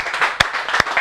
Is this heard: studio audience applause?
yes